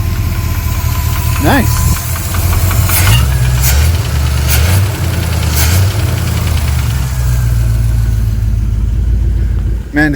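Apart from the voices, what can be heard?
truck engine starting up and idling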